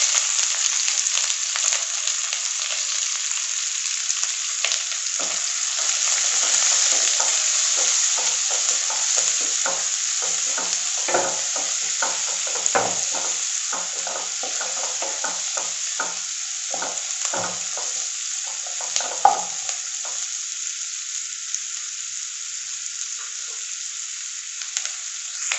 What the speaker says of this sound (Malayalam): പിന്നെ ഞാൻ ഒരു സവാള വലുതായിട്ട് അരിഞ്ഞ് വെച്ചിട്ടുള്ളത് അത് ചേർത്ത് കൊടുക്കാം.